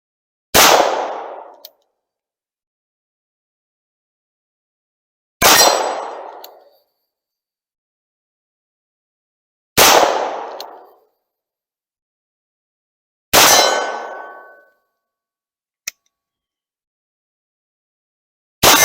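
Pietta 1858 New Model Army revolver fitted with a Howell .45 Colt conversion cylinder firing at steel, four loud spaced shots each with a ringing decay, roughly four seconds apart, plus a faint click between, no talking.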